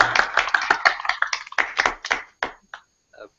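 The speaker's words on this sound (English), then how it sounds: "Applause to say goodbye and applause to welcome." A small group at a festival gathering claps in uneven bursts, the claps crisp and close, thinning out and trailing off into a few scattered final claps.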